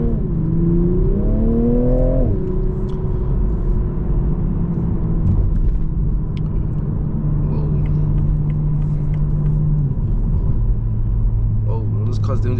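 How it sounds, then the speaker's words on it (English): A Toyota GR Supra A91 engine rumbles and climbs in pitch as the car accelerates on the road, then settles into a steadier drone while cruising, loud and continuous throughout. "Whoa, this car's definitely got some grunt to it."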